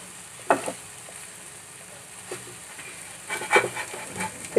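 Bread toasting over a low flame in a pan for a malai sandwich, a soft steady sizzle broken by a few sharp spoon scrapes and taps as the slice is flipped.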